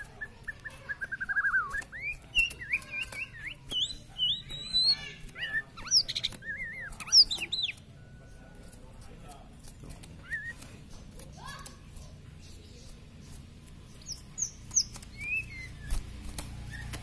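A white-rumped shama of the Bahorok variety sings in varied, fluty whistled phrases and trills, close and clear, with pauses between bursts over soft background noise.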